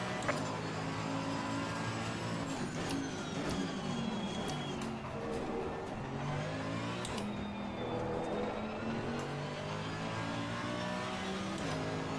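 A GT race car engine in Assetto Corsa Competizione at Silverstone revs up and down through gear changes, a continuous loud whine with repeated rising pitch sweeps and shifts across twelve seconds.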